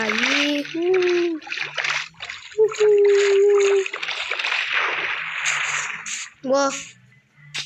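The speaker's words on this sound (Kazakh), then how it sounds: "Сүңгейміз суда." Splashes and watery sloshing come and go as a Minecraft character dives and swims, with a voice talking over most of the sounds.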